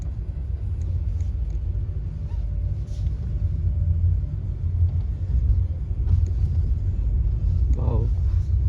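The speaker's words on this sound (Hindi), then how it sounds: "पिकअप के मामले में तो नो डाउट इसका इंजन जो है बहुत ही ज़्यादा पावरफुल है, 1 लीटर का है।" A Skoda Kylaq compact SUV with a 1-litre engine accelerates, its low engine drone and road rumble steady from inside the cabin, with a voice speaking over it and a short squeak near the end.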